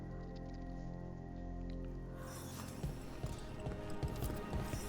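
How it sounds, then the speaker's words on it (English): Steady rain in a video game (Dragon Age: The Veilguard) patters in after a couple of seconds, scattered droplet ticks over a low sustained musical drone. "Raining again."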